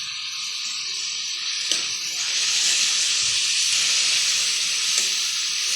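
Onion and tomato fry in a pan, giving a steady, close sizzling hiss that swells louder midway through, with a few faint stirring clicks and no voices.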